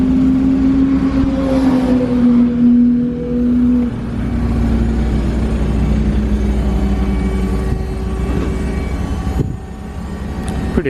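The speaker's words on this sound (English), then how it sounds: "Pretty loud fuel pump." A loud, steady high-pitched fuel pump whine from a Toyota JZX110 Mark II drones over its rumbling engine idle at a Queensland Raceway sprint event, continuous and close, with the pitch dipping slightly midway.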